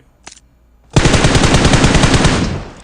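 Automatic gunfire from the PUBG Mobile video game, a brief faint click first, then a loud sustained burst of rapid shots rattling steadily for nearly two seconds before easing slightly.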